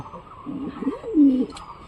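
Soft, low coos from satin pigeons rise and fall in a short burst, with a louder murmuring call near the end over faint background noise.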